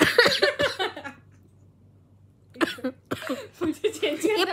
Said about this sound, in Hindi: मुझे चेंज ये प्रोडक्ट खोलने मुझे खांसी आ गई